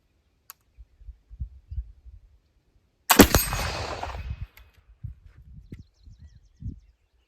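A single sharp, loud report from a firearm loaded with black powder made from bamboo charcoal, with a short ringing decay. Faint handling noises come before and after it.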